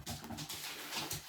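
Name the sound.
dog named Snoopy whimpering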